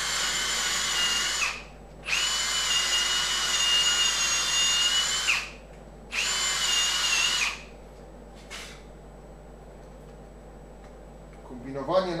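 Drill running in bursts while a lathe is fitted and assembled in a workshop: three long whining runs with steady pitch, separated by pauses, then a short blip and a faint clatter near the end.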